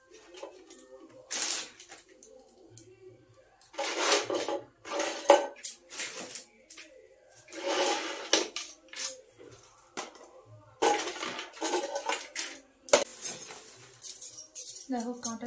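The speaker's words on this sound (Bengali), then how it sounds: "দেখো কাঁটা চামচ 4টা নিয়ে এসেছি। এই যে এখানে একটা নাইফ আছে, কাঁটা চামচ 4টে।" Four metal forks and a knife clink and rattle as they are handled, in scattered bursts of bright clatter with quiet gaps between. A voice is faintly audible at times.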